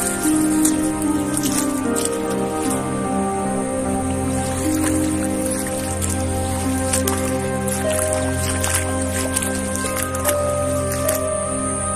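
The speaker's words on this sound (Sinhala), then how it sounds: "පල්ලෙහාට යනවා වතුර කිස්සලාගෙන" Water flows down a channel into a natural lake, a steady, dense gurgling rush with splashes and drips, close and continuous throughout.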